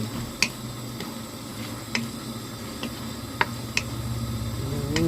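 Squid and shrimp stir-fried in a pan with wild ginger (krachai), a steady close sizzle under scattered sharp clicks of a spatula scraping and tapping the pan.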